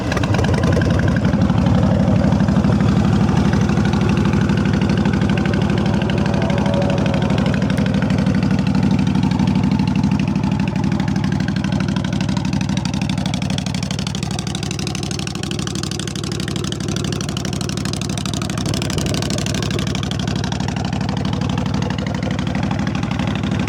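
A 2005 Honda VTX1300 C cruiser motorcycle idles steadily close by, a deep low rumble holding an even, loud pulse with no talk over it.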